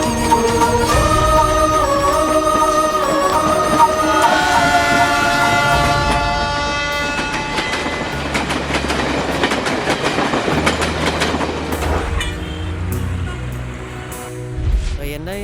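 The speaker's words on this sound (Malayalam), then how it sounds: "മേട്ടുപ്പാളയത്തിൽ നിന്ന് ചെന്നൈയിലേക്കുള്ള ദേവഗിരി എക്സ്പ്രസ് കുറച്ച് സമയത്തിനുള്ളിൽ പ്ലാറ്റ്ഫോം നമ്പർ 2-ൽ" A Devagiri Express train pulls into platform 2 of a railway station, with steady loud rumbling, wheel clatter and a horn, mixed with background music and some voices.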